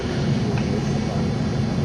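Banshee SHO bike engine running lean, a steady, loud low-pitched drone with a dense rough rumble that holds unbroken throughout.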